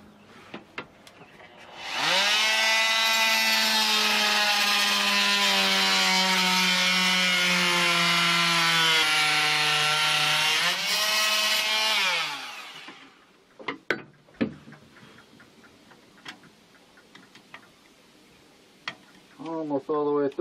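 A power saw cutting through fiberglass aboard a sailboat, one loud, sustained whining buzz of about ten seconds that then stops, followed by quieter knocks and handling sounds.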